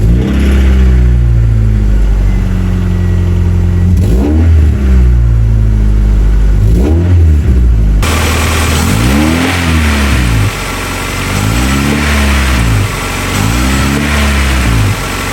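A Honda Prelude car engine with a sticking throttle revs hard in repeated surges, rising and falling several times without settling back to a calm idle, loud and close.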